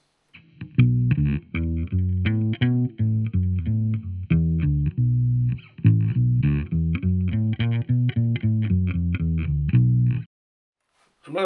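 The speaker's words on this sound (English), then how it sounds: "let's switch to the bridge pickup." Close, loud electric bass guitar notes, played through the bridge pickup on fresh strings, come in two even phrases of clearly separated plucked notes, then stop into brief silence.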